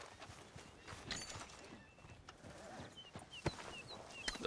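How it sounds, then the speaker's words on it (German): Horse hooves clip-clop on a path in Red Dead Redemption 2, a light, irregular patter of steps over quiet outdoor ambience with a few sharper knocks near the end. "Das ist ein ziemlich gutes Pferd, glaube ich."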